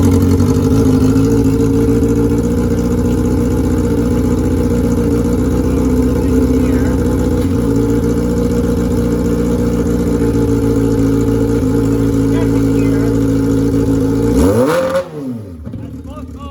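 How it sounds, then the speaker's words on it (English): A hybrid cross kart runs its electric motor and gasoline engine together in forward, a loud steady mid-pitched engine drone with layered motor hum that holds for most of the time, then drops in pitch and cuts back abruptly near the end. "That's both motors going."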